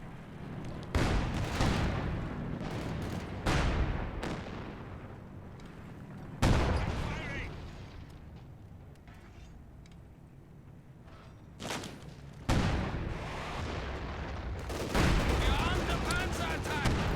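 Machine gun fire from an MG nest in a building in Company of Heroes 2, loud bursts and booming battlefield impacts recurring over the clip, mixed with explosions and a commentator talking throughout.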